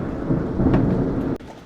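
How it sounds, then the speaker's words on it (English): Thunder rumbles through a storm with hail and heavy rain, a dense, loud roar of storm noise that cuts off abruptly near the end, with no voices. "We got a bad storm out here. It's hail and all type of stuff going on"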